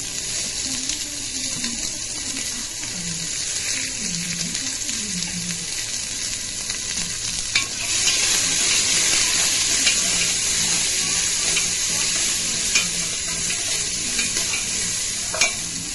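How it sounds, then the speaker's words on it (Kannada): Onion and green chilli frying in a pan, a steady close sizzle with stirring that grows louder and brighter partway through, with no talk. "ಈಗ ಇದಕ್ಕೆ ಸ್ವಲ್ಪ ಈರುಳ್ಳಿ ಮತ್ತೆ ಒಂದು ಕಾಯಿಮೆಣಸು ಹಾಕ್ತಾ ಇದ್ದೀನಿ."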